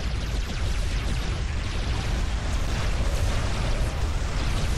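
A ship blows up in the space strategy game Sword of the Stars II, a loud, continuous rumbling blast with dense low-end roar that holds steady for several seconds without any talking.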